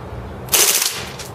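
A Marushin M2 carbine gas blowback airsoft gun firing on full auto, a short rapid close burst of about half a second.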